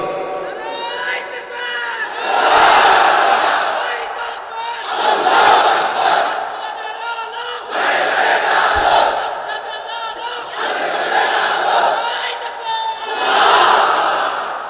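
A large outdoor crowd at a religious gathering chants takbir in loud, surging bursts, five or six swelling roars rising and falling at regular intervals, each call answered in unison.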